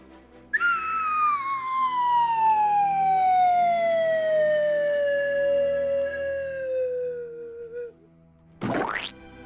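Siren sound effect played by a streamer, a single long wailing tone that starts high and slowly glides downward over several seconds, loud and alone, followed by a brief rising noisy swoosh.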